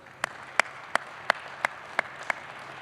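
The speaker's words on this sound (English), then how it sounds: "please join me in a round of applause for your support system" Clapping at a cadets' athletic department awards ceremony comes as seven sharp, evenly spaced claps, distinct and fairly near against a quiet room.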